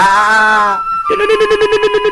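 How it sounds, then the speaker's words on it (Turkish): A telephone rings close and loud: a sustained electronic tone, then a fast, evenly pulsing ring repeating in quick rhythm. "Telefon çalmaya başladı."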